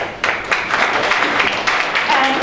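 Audience applause at the closing ceremony of an international conference, a steady wash of many hands clapping close by that holds for the whole stretch, with a faint voice underneath.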